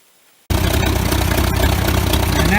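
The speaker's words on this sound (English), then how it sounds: "And now we got the tractor running." A Farmall F12 tractor engine starts up after a quiet moment and runs steadily and loudly at idle, with a constant low chugging drone and no talk.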